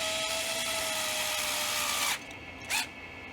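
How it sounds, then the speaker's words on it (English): A power screwdriver drives a tapping screw into a screw hole while assembling a Brick Blaster AAP-01 toy blaster, a steady close whine that stops abruptly, followed by one short burst. "and screw it in"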